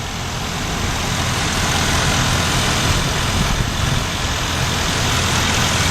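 A 2011 Ford E150 cargo van's 4.6-liter V8 idles steadily, a close, even engine rumble that holds unchanged throughout with no voices.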